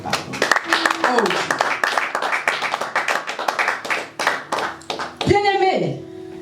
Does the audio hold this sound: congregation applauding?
yes